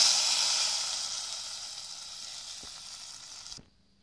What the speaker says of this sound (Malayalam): ഇതിനെ നമുക്ക് പായസത്തിലോട്ട് ഒഴിച്ചു കൊടുക്കാം